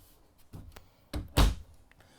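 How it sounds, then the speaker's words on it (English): A motorhome drawer on push-me-pull-me guides, in a 2022 Newmar Ventana 4037 Class A diesel coach, slides and closes with a few soft knocks and then a firmer thunk near the end, close and quiet with no talk. "the push-me-pull-me drawer guides"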